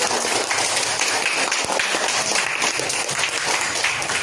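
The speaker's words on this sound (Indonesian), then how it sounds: "tepuk tangan untuk Faril." Classroom applause for a student in a coding and artificial intelligence lesson, a dense, continuous patter of many hands clapping at close range without pause.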